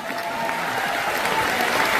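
An indoor audience at a New Delhi second-generation program applauds steadily, a dense, even wash of clapping that holds throughout without any clear break.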